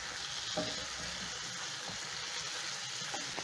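Fish pieces stirred into a hot pan of sizzling stew base, a steady close frying hiss with soft scraping from the stirring underneath.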